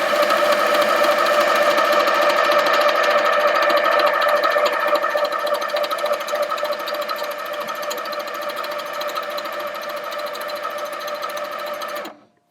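A Handi Quilter Sweet Sixteen sewing machine stitches fast, a steady loud buzzing whir that holds for about twelve seconds, eases slightly in the second half, then stops abruptly.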